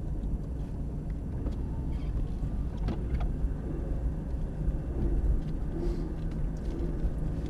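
An Aston Martin is driven gently in a straight line, giving a steady low engine and road rumble, close and constant, with no voices.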